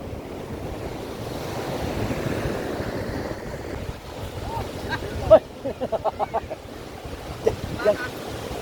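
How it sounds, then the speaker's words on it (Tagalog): Big ocean waves surge and crash on a beach shore in a continuous roaring wash with wind buffeting the microphone, and a voice speaks briefly over the surf midway. "Ang lalaki ng alon."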